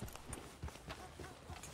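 Horse hooves clopping in a steady, quick rhythm while riding in Red Dead Redemption 2, faint and soft under game ambience.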